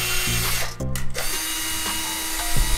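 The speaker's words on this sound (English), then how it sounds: "So what I'm actually going to do is grab my drill bit." A power drill runs steadily while boring holes through a car's rear bumper for a splitter install, whirring loud and close with a brief pause and a pitch drop as the bit bites through the plastic.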